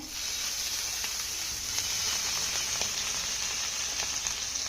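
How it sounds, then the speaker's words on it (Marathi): Steady hissing sizzle of water hitting a hot griddle, continuous and close, with no voices. "यावरती आपल्याला थोडस पाणी शिंपडून घ्यायचं आहे"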